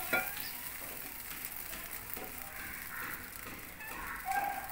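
Prawns sizzle steadily in mustard oil in a wok, a close, continuous crackling fry with a few soft stirring clatters and no talk.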